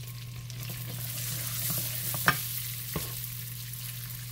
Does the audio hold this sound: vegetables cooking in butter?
yes